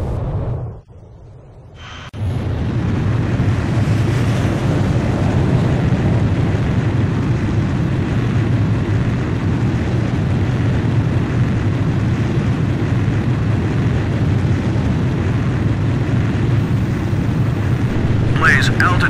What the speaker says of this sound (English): Blaze, you are cleared for takeoff.